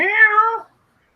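A pet cat gives a single clear, close meow lasting about half a second, then silence.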